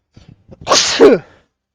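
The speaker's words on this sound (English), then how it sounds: "Sorry. Had a sneezing fit." A single sharp, loud sneeze, close up, with a quick intake of breath just before it and nothing else around it.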